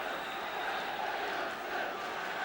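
A football crowd at Stamford Bridge keeps up a steady distant roar of cheering and chanting. The sound is faint and even throughout.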